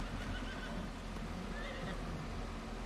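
Horses in a farm stable give a faint whinny over a steady, noisy hiss of background sound, with no clear hoofbeats coming through.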